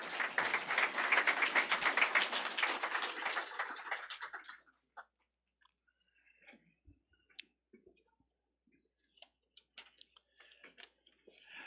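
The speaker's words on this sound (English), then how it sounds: "let's give him a round of applause" An audience at a technical college signing day bursts into brisk applause for about four seconds, then stops abruptly, leaving a few faint scattered clicks and room noise.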